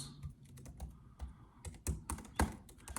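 Keys clack in quick, irregular bursts on a computer keyboard while code is typed for a USACO Bronze problem, Farmer John's Cheese Block; the close, dry taps come in uneven clusters, with a few louder keystrokes standing out near the end.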